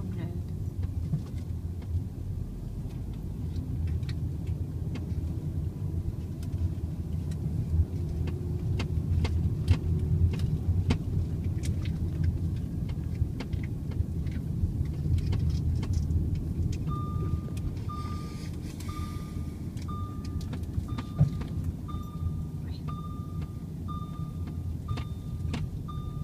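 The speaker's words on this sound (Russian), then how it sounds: "вот мы выехали с парковки" A car pulls out of a parking lot in the old town of Nesebar, Bulgaria, with a low, steady engine rumble and road noise throughout while people talk inside, and a faint repeating beep appears near the end.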